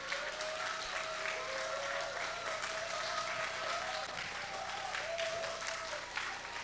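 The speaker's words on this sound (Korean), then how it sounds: "우리 박수로 환영하겠습니다." A Korean church congregation at a Sunday service claps together to welcome the pastor to the pulpit, a faint, even wash of applause lasting several seconds over a soft sustained tone in the room.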